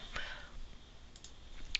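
A computer mouse clicks while cells are selected in an Excel spreadsheet, giving a few faint, sharp, isolated clicks spaced irregularly in a quiet room.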